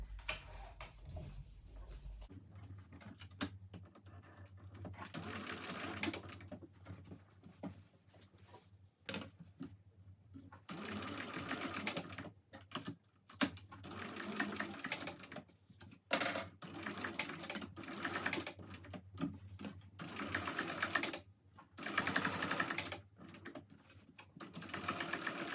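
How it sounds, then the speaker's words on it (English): A sewing machine top stitching along the seams of a Cornish backpack works in a series of close, steady bursts of varying length, separated by pauses, fabric shuffling and clicks, with a low hum early on. "So when I now top stitch along here, I'm going to be capturing all the seams."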